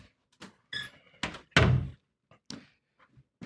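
Bathroom door being shut at home: a few scattered knocks and rattles build to a solid thunk, followed by lighter taps and clicks, close by and fairly quiet, with no talk.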